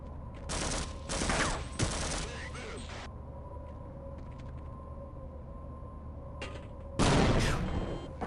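Grenade explosions and gunfire in a video game: a cluster of loud, sharp bursts early on, a quieter stretch of mechanical hum and scattered crackles, then another heavy blast near the end.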